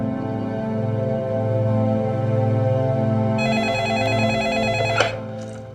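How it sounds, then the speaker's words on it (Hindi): Telephone ringing during an outgoing call in an Indian TV serial scene, a repeated electronic ring tone pulsing steadily and fairly loud, with a brighter tone layer joining partway and a short click near the end. "किसे फोन लगा रही है तू मिनी?"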